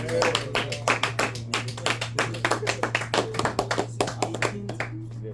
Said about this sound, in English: And shall we give Manny a round of applause?